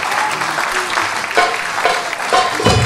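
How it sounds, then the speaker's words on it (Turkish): A crowd applauds singers at a live Turkish music performance, continuous dense clapping filling the moment, close and fairly loud. "Alkışlar bu güzel bayanlar için."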